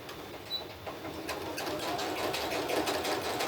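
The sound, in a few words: top-loading sewing machine stitching quilt block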